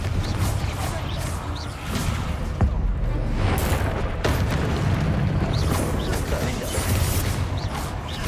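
Fiery Confringo spell explosions in the video game Hogwarts Legacy, a dense run of booming blasts and crashing impacts over constant loud battle noise.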